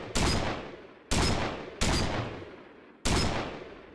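Four heavy gun blasts boom out in a block-building video game, each a sharp loud crack followed by a decaying rumble, spaced roughly a second apart with no talk.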